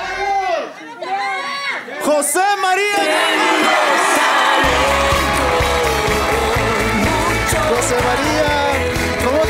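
A talent-show audience erupts into loud cheering and shouting for contestant José María after a presenter speaks, the roar swelling and holding over a pounding rhythmic beat.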